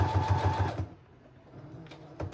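Sewing machine zigzag stitching a sequin-filled ornament shaker box: a close, rapid rhythmic chatter of stitches for under a second, then a quiet pause with a few faint soft clicks and handling sounds.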